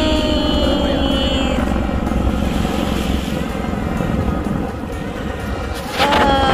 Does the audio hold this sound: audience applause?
no